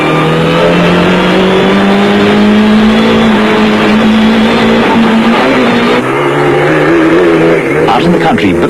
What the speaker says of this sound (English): Race cam action is from the Kutsia Leek Toyota at high speed through the streets of Vetna